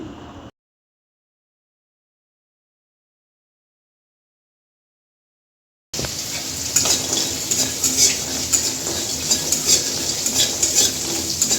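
Lentil dumplings (bori) are frying in a pan at home and make a loud, steady sizzle. Occasional scraping and stirring clicks from a utensil come after a stretch of silence, with no talk.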